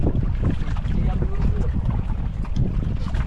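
Strong wind roars across a boat at sea while fishing: a loud, steady rush with heavy microphone buffeting that continues without a break, and there is no talking.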